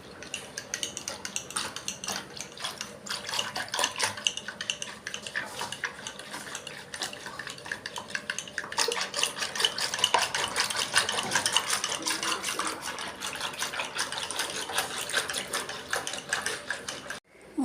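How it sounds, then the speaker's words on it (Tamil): Curd thinned with a tumbler of water is churned with a wooden churner in a clay pot, giving a steady wet swishing and sloshing that grows louder and busier about halfway through, with no talking. "கொஞ்சம் 1 டம்ளர் தண்ணி ஊற்றி இப்போ மத்தில் நல்லா சிலுப்பணும்."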